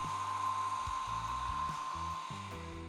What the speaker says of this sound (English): I used a hair dryer to stiffen the slip